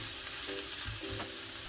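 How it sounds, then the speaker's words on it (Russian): About 170 grams of cabbage pie filling warming in a pan over lowered heat, giving a steady, close frying sizzle with soft stirring noises and no talking. "Капусту сначала прогреем."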